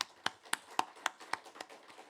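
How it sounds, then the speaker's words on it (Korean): A sparse, slow rhythm of soft hand claps from a church congregation, about eight evenly spaced claps, quiet and somewhat distant, fading slightly toward the end. "감사와 영광의 박수를 올려드리겠습니다"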